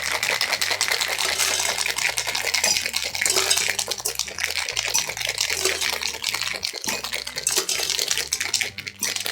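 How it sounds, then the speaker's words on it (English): Shaken Shamrock cocktail of Irish cream and Irish whiskey poured over ice into rock glasses, a close, steady stream of liquid with clinking ice and glass lasting throughout, no voices. "we're going to pour over ice into these rock glasses"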